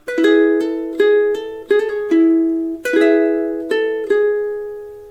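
Ukulele picks the closing bars of a song intro at a slower tempo, a handful of distinct plucked notes spaced out and ringing on, close and clean with no voice.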